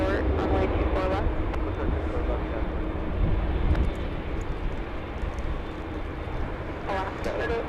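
A Southwest airliner bound for Las Vegas at Los Angeles International Airport, a loud continuous engine roar, close and steady, with a voice talking over it.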